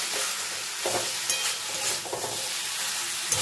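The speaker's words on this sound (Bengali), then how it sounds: "চিনিটা দিয়ে সব কিছুর সঙ্গে আমি নাড়াচাড়া করে নিচ্ছি।" Vegetables with sugar are stirred in a hot frying pan, giving a continuous close sizzle with scraping strokes of the spoon at a few uneven moments.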